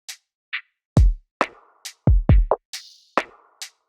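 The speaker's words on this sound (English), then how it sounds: "Next, we have a rim sound that plays right here to give the drum track a little bit more groove." A sparse lofi drum pattern with deep kicks, crisp hi-hat ticks and short woody rim clicks in a loose, grooving rhythm.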